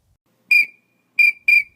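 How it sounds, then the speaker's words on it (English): Three short, sharp whistle notes sound alone and close: one, a pause, then a quick pair, each with a thin trailing tail. "On the other side is a pintail whistle,"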